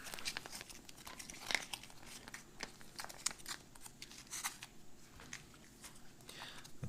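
A U.S. military MRE peanut butter packet kneaded by hand gives off soft, close crinkling and crackling in irregular bursts, fairly quiet and without talk.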